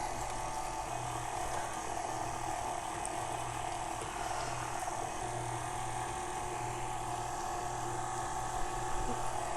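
An electric mixer churns pink velvet cookie dough until creamy, a steady loud mechanical whir with a rattling, gear-like texture running unbroken and close throughout.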